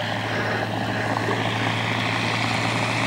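A Fieseler Storch propeller aircraft engine drones close by at Old Warden, a constant low hum with a buzzing tone that holds evenly throughout.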